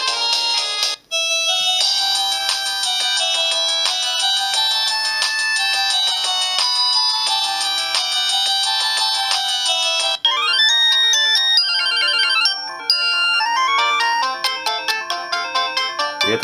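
A Samsung D100 mobile phone plays a polyphonic melodic ringtone continuously for about sixteen seconds, bright and steady, shifting to a different tune partway through, near and alone with no talk.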